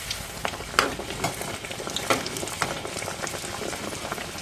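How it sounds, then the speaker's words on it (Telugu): Millet and ragi fritters frying in hot oil, a steady close sizzle and bubbling with scattered pops throughout, no voices. "అయితే వేయించుకోండి."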